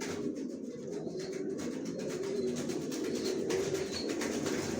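Racer pigeon squabs coo softly inside a loft, low murmuring calls repeating under a steady background hum, with faint higher chirps scattered throughout.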